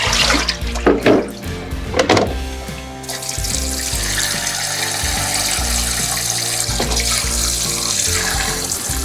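Raw oysters being rinsed under a running kitchen tap, a steady rush of water into the sink with a few splashy bursts early on, close and fairly loud throughout.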